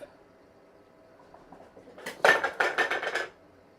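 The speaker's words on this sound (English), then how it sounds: "They're knocking their food bowls over." Kittens knocking their food bowls over indoors, a quiet lead-in followed by a loud burst of clattering, rattling dish clanks lasting about a second before stopping.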